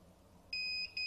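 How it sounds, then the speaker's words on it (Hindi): A Scout DVR with a faulty adapter gives off sharp electronic beeps, a long tone followed by a short one after a brief gap, clear against a quiet room hum. "आप, सुन सकते हैं हर थोड़ी देर के बाद ये बीप कर रहा है।"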